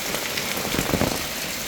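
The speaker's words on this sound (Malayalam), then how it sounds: "എന്താ നല്ല മഴയൊക്കെയാണ്." Heavy monsoon rain pours steadily onto surfaces near a porch, a dense, even hiss with faint drop patter, close and loud, with no voices.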